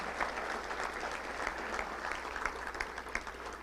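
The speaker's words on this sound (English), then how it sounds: "Let's give all of our sponsors a big round of applause, if you will." A crowd at a Little Rock Touchdown Club event claps for the sponsors, a steady, moderately distant round of applause lasting a few seconds.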